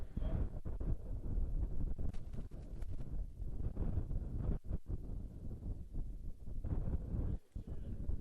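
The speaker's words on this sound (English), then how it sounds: "The wind continues to blow here in Canyon." Strong wind at an outdoor college baseball game in Canyon, Texas, a continuous rushing roar buffeting the microphone at close range, with faint crowd ambience underneath.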